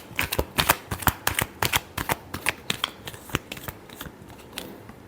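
Tarot cards are shuffled in a quick series of sharp riffling flutters and snaps, close and crisp, with short gaps between bursts.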